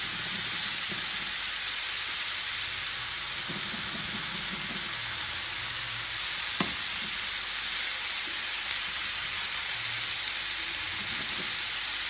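Minced meat fries in a pan after being turned, giving a steady close sizzle and hiss throughout with faint clinks, and no one speaks.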